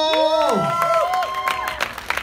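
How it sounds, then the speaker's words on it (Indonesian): Audience applause and cheering greet the cast of a film on stage, a loud crowd roar with clapping running beneath a sustained sung or tonal voice that glides over it. "Tepuk tangan untuk Martino Leo"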